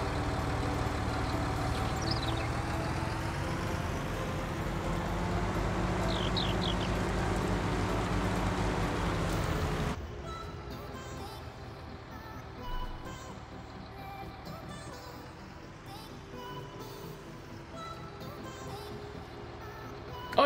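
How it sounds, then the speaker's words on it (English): A tractor engine in Farming Simulator 19 drones steadily with a low, continuous rumble, then drops abruptly to a quieter, thinner idle partway through. "Do you like the tractor sounds? I love the tractor sounds"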